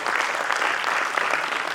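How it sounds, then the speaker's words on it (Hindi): An audience at an international film festival bursts into a brief, dense round of clapping, steady and fairly loud, with no voices over it. "Can we have a big round of applause, please?"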